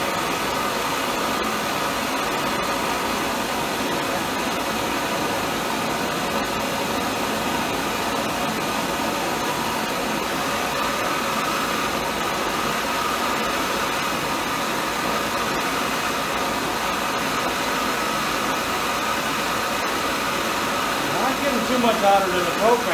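A propylene hand torch burns with a steady, loud, broadband roar that holds evenly the whole time, close to the listener, heating a spot on a surface.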